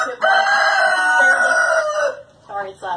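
Inside a backyard chicken coop, a rooster lets out one loud, close, sustained crow lasting nearly two seconds, followed by a few short clucks from the hens.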